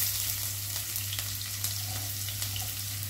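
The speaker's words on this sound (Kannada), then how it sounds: "ಈಗ ನೋಡಿ ಕಾಯಿಲಿಕ್ಕೆ ಜೀರಿಗೆ ಸಿಡಿಲಿಕ್ಕೆ ಸ್ಟಾರ್ಟ್ ಆಯಿತು" Cumin seeds and finely chopped onion frying in hot oil in a pan, a close, continuous crackling sizzle with small pops throughout.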